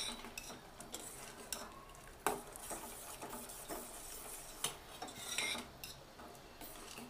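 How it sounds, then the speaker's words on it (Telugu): A spoon stirs sugar into hot semiya payasam (vermicelli kheer) in a metal pot, with scraping clinks and soft rubbing scrapes at an irregular pace and a couple of sharper taps, close up with no talk. "చక్కెర వేసిన తర్వాత బాగా కలపండి, చక్కెర అంతా కరిగిపోయేటట్టు"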